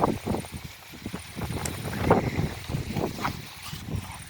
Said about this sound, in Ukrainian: Розбирається трішки вітер.